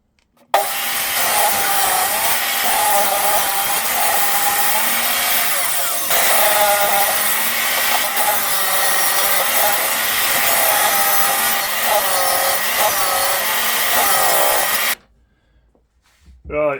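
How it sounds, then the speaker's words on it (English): Loud table saw trimming the edges of wooden boards, a sustained whining roar of blade through wood running unbroken for about fourteen seconds before cutting off abruptly into near silence. "I've just tidied up the edges of these boards on my table saw"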